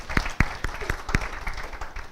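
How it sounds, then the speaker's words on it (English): Classroom audience at a business school lecture clapping for a student who answered correctly, a handful of distinct sharp claps standing out over a thin, brief patter. "So let's clap for him"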